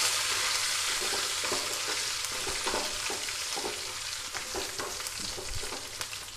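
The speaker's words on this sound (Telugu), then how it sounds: "మనకి పోపు వేగిపోయింది కదా." Cumin seeds and toor dal tempering sizzle steadily in hot oil for a tomato-cumin rasam, a dense continuous frying hiss with small crackles throughout and no talking.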